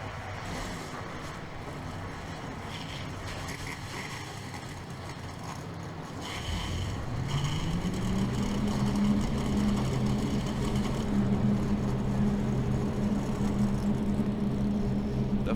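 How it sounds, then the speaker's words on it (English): A field of stock cars fires up at Richmond in the NR2003 racing sim for the 2000 Pontiac Excitement 400. A low background gives way to a swelling engine drone that rises in pitch and then holds as a steady, dense roar. "Drivers, start your engines."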